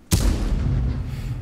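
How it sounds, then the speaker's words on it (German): A tank cannon fires in World of Tanks, one sudden loud boom followed by a long rumbling decay. "Ja, wo auch immer dieser Schuss gerade hinging."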